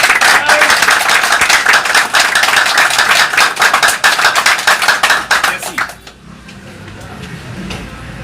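An audience claps and cheers steadily at a gathering honoring Jean-Jacques Dessalines, dense applause that fades out abruptly near the end, leaving a quiet room.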